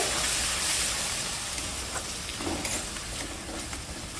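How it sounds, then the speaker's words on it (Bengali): Spices with ground pepper and ground tomato frying in a pan for a prawn pulao, giving a steady close sizzle with stirring scrapes throughout. "গোলমরিচের গুঁড়ো বেটে রাখা টমেটো এরপর মশলাটা আমি কষি নেব"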